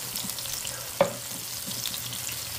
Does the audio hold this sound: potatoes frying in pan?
yes